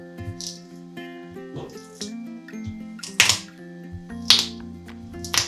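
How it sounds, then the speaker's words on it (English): Wet squishing with sharp pops and snaps of cranberries bursting in a fermenting vat comes in irregular bursts over a low steady hum. "just gonna go ahead and use my ferment vat and just squish them."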